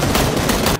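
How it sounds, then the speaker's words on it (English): Dense, continuous gunfire from the video game PUBG, loud and close, rattling steadily for almost a second before cutting off abruptly. "I was shooting Marcelino for a second"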